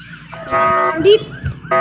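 A police siren in a video game wails loudly with rising tones, broken up by bursts of other game noise.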